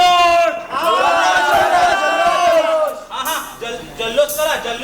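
A crowd at a village folk theatre performance shouts and whoops in celebration, loud raised voices overlapping in a ragged cheer that swells and breaks into separate cries.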